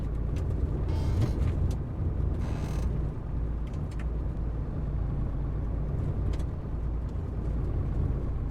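A vehicle driven in the military video game ArmA 3 gives a loud, steady engine and road rumble, with creaks and rattling knocks throughout and no voices.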